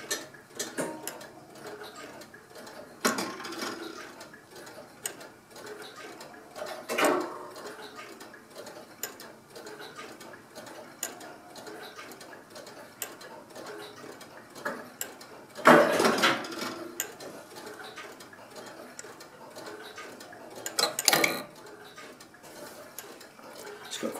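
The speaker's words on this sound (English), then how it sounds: "not a very pleasant sound when, uh, when the gravity arm is returned to battery" An electric master clock ticks steadily at close range, and its gravity arm is reset now and then by its battery mechanism, giving several louder, harsher clanking bursts among the quieter mechanical ticking.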